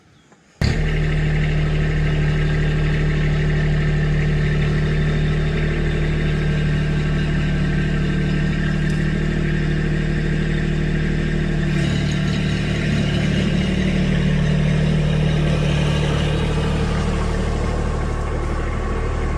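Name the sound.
2019 Kubota B2601 compact tractor engine running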